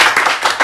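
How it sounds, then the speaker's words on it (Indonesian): A few hands clap in a quick, close burst of about four sharp claps within under a second, an informal round of applause during a student faculty chat session. "Tepuk tangan dulu."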